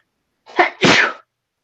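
A single close, loud human sneeze with a brief sharp intake followed by the explosive burst, alone in an otherwise silent moment.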